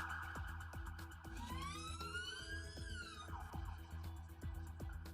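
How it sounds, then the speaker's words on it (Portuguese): A fire truck siren wails from a rising and falling sweep into a steady tone, heard close and quiet, with a rhythmic clicking or pulsing running beneath it and no talking. "A gente tem um tipo de sirene para cada gravidade de ocorrência."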